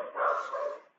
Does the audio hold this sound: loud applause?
no